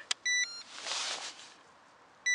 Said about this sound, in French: qui va émettre quelques bips parce qu'elle cherche le bateau